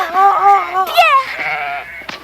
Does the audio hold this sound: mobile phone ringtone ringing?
no